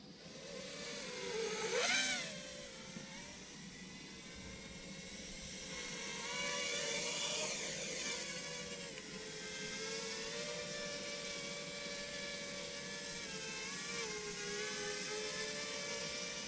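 Small electric motors of a 3D RC aircraft whir steadily through a flight test, their pitch rising and falling with throttle changes, including a sharp rev near the start, with no voices.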